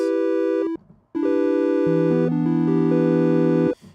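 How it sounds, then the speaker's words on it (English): A pure, smooth triangle-wave synth tone plays a few held notes in a simple sequence, with a short gap, clean and alone. "So we'll start with a triangle wave"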